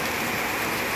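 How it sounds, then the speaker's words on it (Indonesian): Rain pours outdoors in a dense, steady hiss, loud and close throughout with no other sounds. "kena serang dengan hujan."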